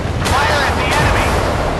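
Heavy warship guns fire in the naval combat game Force of Warships, a loud, dense booming blast layered with game noise and a radio-style voice.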